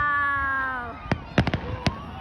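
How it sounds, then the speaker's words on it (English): Fireworks burst in sharp booms over a Canada Day celebration in downtown Edmonton's river valley: about five loud bangs clustered in the second half, following a sustained whistling tone and a faint crowd murmur. "See the fireworks."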